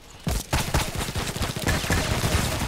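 Pistol fire in the online shooter Contract Wars: a rapid burst of sharp, close gunshots following a short pause, cracking out in quick succession and overlapping with echoes for a couple of seconds.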